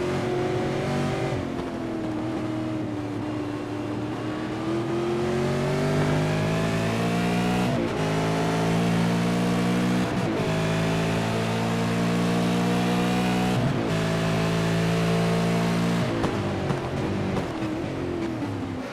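Ford Mustang V8 race cars racing at Sebring: loud, steady engine roar throughout, with pitch rising through the gears and brief dips at each upshift, several cars droning together close by.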